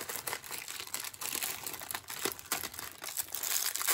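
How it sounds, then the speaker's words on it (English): Dull scissors cutting open a plastic bag of dry cat food, close crinkling and crunching of the plastic in a continuous rustle for a few seconds, no talking. "I'm gonna use them to open the cat food."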